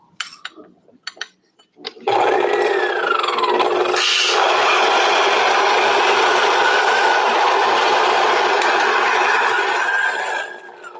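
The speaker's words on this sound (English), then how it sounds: "Let's go back and grind it." An electric coffee grinder with auto stop grinds 24 grams of coffee. A few soft clicks come first, then a loud, steady whirring grind runs for about eight seconds, close by, before cutting off.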